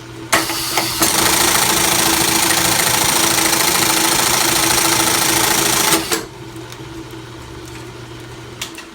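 Reece 101 keyhole buttonhole sewing machine stitching a 1 1/4 inch buttonhole, a loud, steady mechanical clatter running for about five seconds, then cutting off to a low motor hum.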